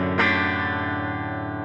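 A clean electric guitar tone played through pedals, one strummed chord ringing out with a bright attack and a long, even sustain, close and unaccompanied by speech.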